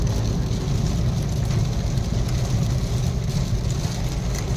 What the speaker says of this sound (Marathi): एकदम जबरदस्त पाऊस चालू आहे जोरदार